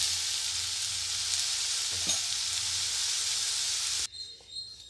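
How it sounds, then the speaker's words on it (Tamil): Oil heats in a kadai on a lit stove for a masala curry, putting out a loud, steady sizzling hiss that stops abruptly near the end. "அதில் எண்ணெய் ஊற்றிக்கோங்க, ஒரு 2 ஸ்பூன்."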